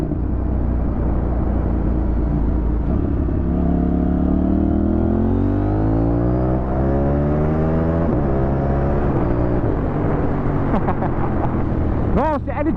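A CF Moto motorcycle accelerates on the road, its engine pitch rising steadily over a constant rumble of wind and road noise. The pitch dips briefly before climbing again, and a rider speaks over it near the end.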